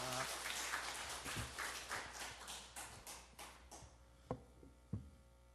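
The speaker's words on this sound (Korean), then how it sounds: "강상 목사님을 할렐루야 박수로 맞이해 주시기 바랍니다" A church congregation claps in welcome for a pastor at a dawn prayer service during Holy Week, dense scattered clapping that thins and fades out, ending with a few isolated claps.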